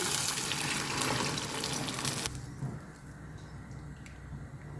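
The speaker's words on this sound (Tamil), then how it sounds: "மிக்சியை கழுவி தண்ணி விட்டுக்கிடலாம்" Steady running water from a tap splashes into a mixer jar being rinsed, loud at first, then dropping to a softer, thinner trickle partway through.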